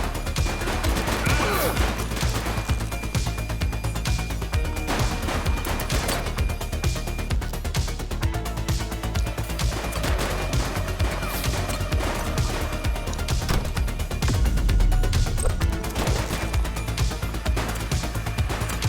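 Gunfire in the police video game The Precinct, a dense, continuous barrage of rapid shots and crashes over a loud rumbling game mix, sustained for the whole stretch.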